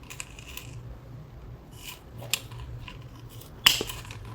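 Scissors snip through an orchid flower spike on a moth orchid, making a sharp crisp cut near the end, preceded by faint rustling and small handling clicks.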